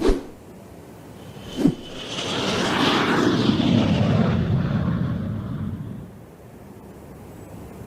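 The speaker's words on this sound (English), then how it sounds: "We need to send a plane for them." An airplane flies past, its engine roar swelling from faint to loud and close over several seconds and then fading away, framed by a couple of sharp thuds.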